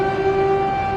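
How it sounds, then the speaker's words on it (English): A steady, sustained air raid siren wails without pause over the capital city of Ukraine, loud and unbroken through the short moment. "You can hear air raid sirens also going off in the capital city"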